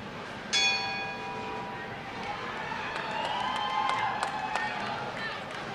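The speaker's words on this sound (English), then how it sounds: "And there's the bell." A bell sounds to start a women's bowling championship at the Reno-Sparks Convention Center, a single bright ringing strike that decays under the steady murmur of a large crowd, with lane clatter and scattered noises following.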